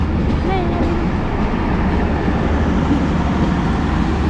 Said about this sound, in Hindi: ये चली गई जी 33 अब park business express coat Lakhpat railway station से